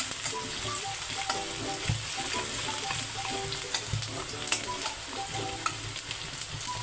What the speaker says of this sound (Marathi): कांदा चांगला फ्राय करून घ्यायचा आहे